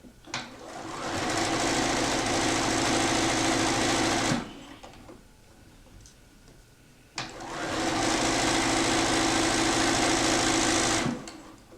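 Sewing machine stitching over pins while piecing quilt blocks, running in two sustained bursts of steady, fast whirring with a short pause between them, close and fairly loud.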